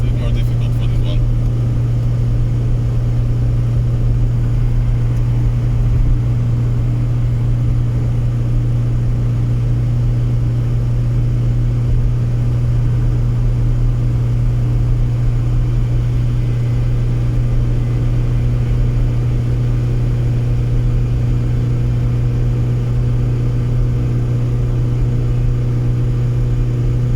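Steady drone of a Citroën BX diesel car engine heard from inside on a road trip, a constant low hum and rumble with no clear revving, while a person talks over it throughout.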